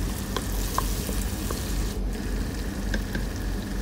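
Sheep meat sautés in a hot pan for kabsa, a loud continuous sizzle close up, with scattered clicks and scrapes of stirring.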